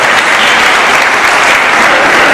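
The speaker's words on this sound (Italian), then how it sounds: "Un applauso per Eugenio" Loud, dense audience applause for a teacher, a continuous wash of many hands clapping close by, with no talk over it.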